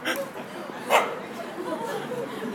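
A dog at a gallery gives a single short bark near the middle, amid chattering voices and a busy indoor murmur.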